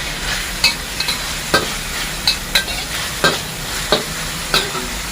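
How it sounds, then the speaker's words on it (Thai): Ground pork stir-fried in a hot pan, a steady sizzle broken by repeated sharp scrapes and clinks of a spatula stirring at an irregular pace. "ผัดหมูให้สุกก่อนนะจ๊ะ เป็นหมูบด"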